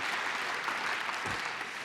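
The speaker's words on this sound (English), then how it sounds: "Yeah, you should clap for that" A lecture audience at a talk on money corrupting Congress breaks into steady, dense applause that fills the whole moment at an even, sustained level with no pause.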